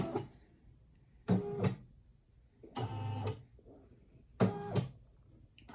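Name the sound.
Brother SE1900 embroidery machine stitching metallic thread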